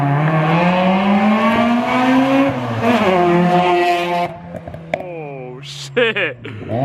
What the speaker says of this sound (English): So yeah, that is the new exhaust. It sounds really awesome.